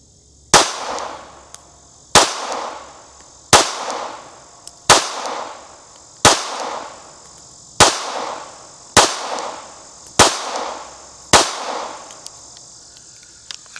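S&W Bodyguard 2.0 Carry Comp .380 ACP pistol firing HST Hydra-Shok Deep rounds, ten loud sharp reports at a steady pace about every second and a half, each with a short ringing decay, and no talking between shots.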